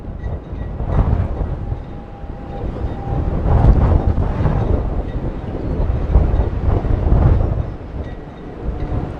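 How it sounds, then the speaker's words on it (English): Strong wind gusts batter the microphone outdoors among moving pine trees, producing loud, surging rumbles that swell and ease in waves throughout. "That's how windy it is out here."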